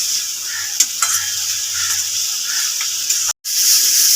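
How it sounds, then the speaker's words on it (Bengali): Ripe pointed gourd frying dry in a pan with salt, turmeric and a little sugar: a strong, even hiss of oil with a few stirring knocks and a brief dropout near the end, no voices. "শুকনো শুকনো ভাজা ভাজা করে নেব"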